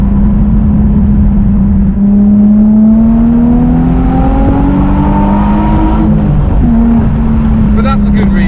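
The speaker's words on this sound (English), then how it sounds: "You can hear the exhaust a lot better" A Zagato Shooting Brake sports car with its roof down gives a loud, steady engine drone with a deep exhaust note, shifting pitch gradually as it cruises, with a voice briefly heard over it.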